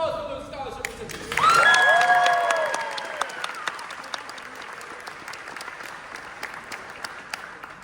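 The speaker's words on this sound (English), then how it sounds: "Another round of applause for those scholarship recipients" Applause for scholarship recipients at a KU Jazz Band 1 spring concert, a broad crowd clapping that swells and slowly thins out. A voice speaks over the start, and scattered claps trail off near the end.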